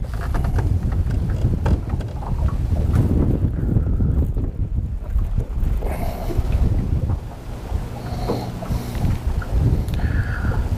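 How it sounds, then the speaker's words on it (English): A southerly wind blows steadily over a river beside a big log house, a broad rushing roar with gusty microphone buffeting and faint lapping of water throughout, no voices heard. "wind is right out of the south and it's blowing me straight down"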